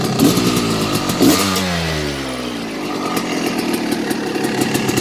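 A 1988 Honda CR250 two-stroke engine fitted in a 2000 CR80 big-wheel dirt bike, freshly rebuilt and still breaking in, fires up after a kickstart, revs briefly, settles, then keeps running with a loud, crisp, rapid idle.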